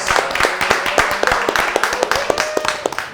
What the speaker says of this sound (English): Let's clap it up for Logan, guys.